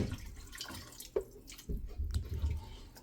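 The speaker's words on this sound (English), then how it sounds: "And now for the water, I'm just going to pour enough in to my satisfaction" Water is poured into a pot of cushaw soup, giving a few seconds of splashing and dripping with several sharp drips and a louder, fuller pour toward the end, close up and with no talk.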